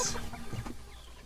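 Soft, close clucking from chickens in a coop in the morning, a few quick chirpy notes over a quiet background.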